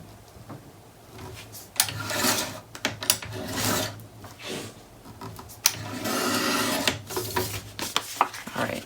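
Paper for a Graphic 45 Birdsong mini album page is trimmed in short bursts of rasping, scraping cuts, close and moderately loud, with pauses between strokes.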